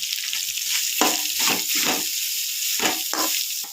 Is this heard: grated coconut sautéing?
yes